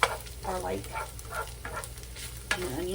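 Ground beef and onions sizzle in a pan as they cook down for cheeseburger pie, a continuous frying crackle broken by repeated scraping stirs, with a sharp knock near the end.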